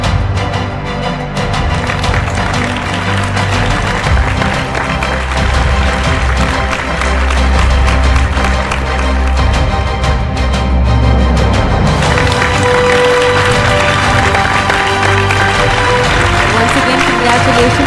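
Sustained audience applause at a scientific award ceremony honoring a winner, loud and continuous with music or crowd noise underneath, the texture shifting partway through.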